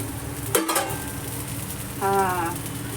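Oil sizzling under an onion chilli dosa on a hot pan, a steady crackling fry with a sharp clatter of utensil against the pan near the start and a brief voice later.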